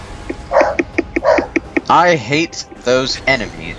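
A pet dog in a room gives a quick run of short, sharp barks and yips close to the microphone, then someone talks over the end.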